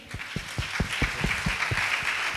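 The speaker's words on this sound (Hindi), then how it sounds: "क्या उस परमेश्वर के लिए एक बार हम ताली बजाएंगे" A church congregation at a Sunday service claps in unison for God, a steady rhythmic beat of roughly four claps per second, moderately loud over a soft room murmur.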